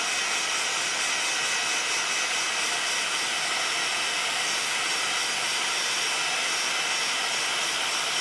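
A handheld dryer blows steadily to dry paint on a layered craft background, a loud, even, hissing whoosh that runs unbroken throughout with no talking.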